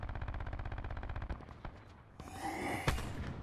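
Black Ops 4 Blackout gameplay gunfire: a rapid automatic burst of evenly spaced loud shots, followed by a few scattered single cracks and a rushing whoosh.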